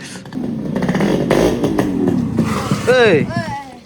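A small engine runs continuously with a steady low drone, close by, while a voice speaks over it near the end.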